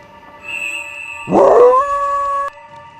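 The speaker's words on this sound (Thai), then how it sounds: "เสียงหมาหอนโคตรน่ากลัวเลย" A dog howls in a horror video game village, a single rising wail that swells near the middle and holds steady before cutting off, over a quiet eerie ambience.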